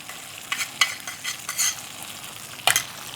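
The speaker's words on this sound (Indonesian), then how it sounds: "kita tumis ini bumbu yang sudah kita haluskan" Ground spice paste being sautéed in a little hot oil in a pan, heard as a soft continuous sizzle broken by several brief bursts of scraping and stirring, one sharper scrape near the end, with no voices.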